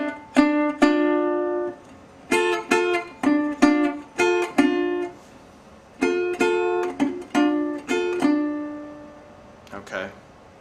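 Acoustic guitar playing a lick, two notes pinched together up the neck, plucked in short bright repeated phrases with brief pauses between, close and clear.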